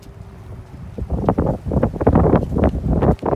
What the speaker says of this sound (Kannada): ಸ್ವಲ್ಪ ಗಾಳಿನೂ ಇದೆ.